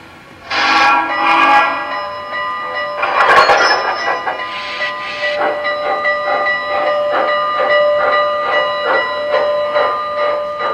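A model steam locomotive sound effect: chuffing exhaust beats with a sharp hiss of steam, then a steady rhythmic puffing running on alone.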